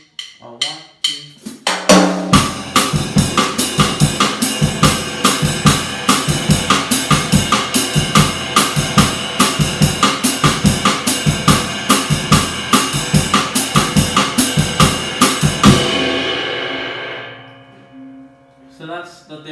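Drum set playing a fast samba groove on kit, a dense steady pattern of driving strokes and cymbal hits held loud for about fifteen seconds, then ringing out and fading.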